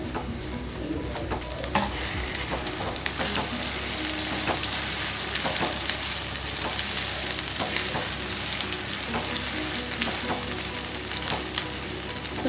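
Beetroot chutney sautés in a pan with a steady broadband sizzle, while a spoon stirs through it in repeated scrapes and clicks. No one speaks over the cooking.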